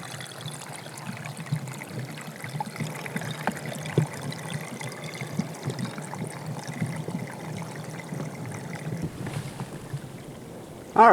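Water flows in a stream on a snowy winter section of the Appalachian Trail near Port Clinton, Pennsylvania, a steady soft trickle and gurgle close by, ending in a brief louder rustle.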